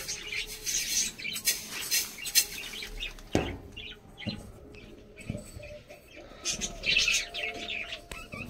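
Pet pigeons coo and chirp close by, with wing flaps and bursts of bright twittering that come and go over several seconds and pause briefly midway.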